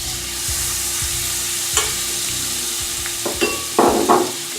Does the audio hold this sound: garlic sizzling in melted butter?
yes